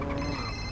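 A telephone rings in a short, steady burst of electronic ringing tone, fairly loud and alone with no talking over it.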